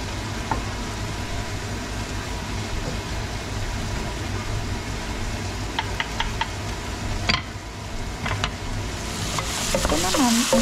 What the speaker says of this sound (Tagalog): ang ginigisa ko ay ang kamatis, ang sibuyas at bawang, at ihahalo ko na itong pork din